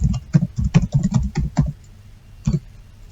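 Fingers tap out a login user ID on a computer keyboard, a close, loud burst of about a dozen quick keystrokes in an uneven rhythm, then a pause and two final taps.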